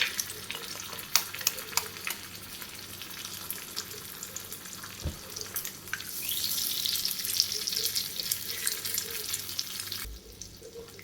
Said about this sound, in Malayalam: ഇനി അടുത്ത നമ്മൾ 2 പച്ചമുട്ട വെച്ചിട്ടില്ലേ, അത് ഇതിലേക്ക് നമുക്ക് ഉടച്ച് ഒഴിച്ചു കൊടുക്കാം.